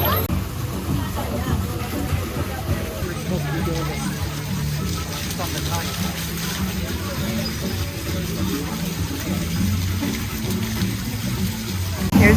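A splashing water fountain at Epcot in Disney World gushes steadily and fairly loudly throughout, with crowd chatter and nearby voices mixed in.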